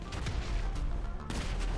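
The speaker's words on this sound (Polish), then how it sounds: "jeszcze jeden strzał w głowę wystarczy zrobić" Gunfire in GTA Online on the island of Cayo Perico, a dense run of loud, sharp reports with a brief lull near the middle before shooting resumes, set against constant game background noise.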